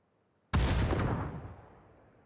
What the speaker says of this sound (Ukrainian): По ньому стріляють.